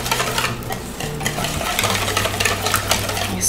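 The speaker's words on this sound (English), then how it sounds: "And then we're just gonna whisk this all together" A whisk stirs an olive oil and oregano salad dressing in a bowl, giving a steady, close scraping swish of quick strokes that runs the whole time without talk.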